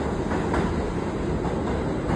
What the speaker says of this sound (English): We're gonna do good on the train